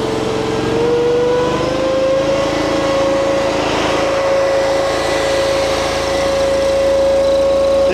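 Engine of a machine fitted with a hydraulic oil cooler revs up, its pitch climbing slightly over the first few seconds and then holding as a steady, loud, close drone for the rest of the clip.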